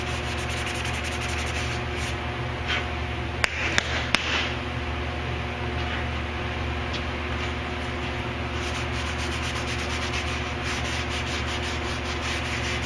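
Steady, continuous sanding rasp on primer over repaired corrosion on the rear gate of a 2003 Chevrolet Suburban, a dense abrasive hiss that runs unbroken throughout, with a few sharp knocks briefly cutting through near the middle.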